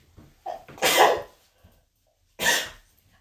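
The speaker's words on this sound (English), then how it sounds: "Evidently, it works because I'm sneezing." A person sneezes twice, a bigger sneeze near the start with a little breathy lead-in and a second sharp sneeze a moment later, both close and loud against near silence.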